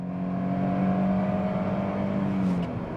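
A Citroen C-Elysee 1.2 VTI automatic accelerates at full throttle, its engine droning loud and close with a steady rising hum, easing off near the end as a gear changes.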